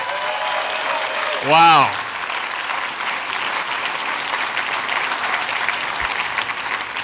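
Sustained audience applause at a Dale Carnegie 2017 event: dense, steady clapping fills the whole stretch at an even level, while a voice gives a short exclamation near the start.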